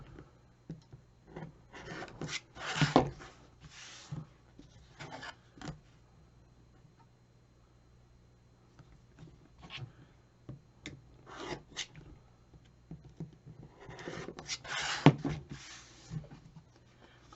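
Bursts of rotary cutter slicing and fabric rubbing as quilt half square triangles are trimmed to 2.5-inch squares, close and quiet, with clusters of scraping strokes separated by pauses.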